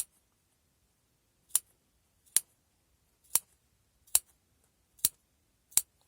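Six crisp scissor snips notching curved fabric edges, evenly spaced about a second apart, close and clear against silence.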